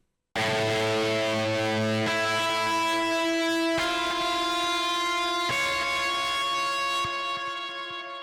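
Sustained, harshly distorted ambient guitar chords through a Decapitator distortion plugin ring out loudly, changing every couple of seconds, with a gritty, buzzing saturated tone that slowly decays.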